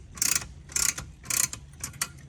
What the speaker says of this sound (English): And then we're gonna use the wrench and crank it a bit more.